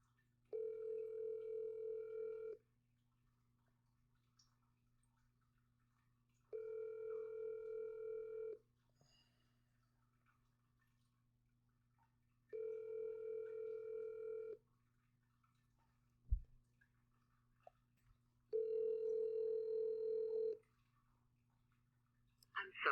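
Outgoing phone call ringing back four times, each a steady tone of about two seconds separated by roughly four-second pauses over a constant low hum, with a faint click near the end.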